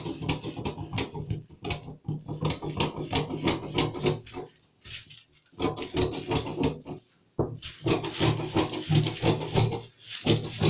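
Scissors snip through fabric to cut out a kaftan neckline, a quick rhythmic series of crisp clicks and crunches in bursts, close up, with a few short pauses between runs.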